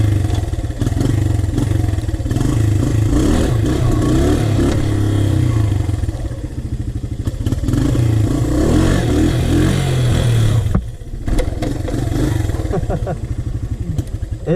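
A Honda TRX 125 ATV engine runs steadily and loud throughout, a low chugging drone with brief dips in level near the end, with a person talking over it at times.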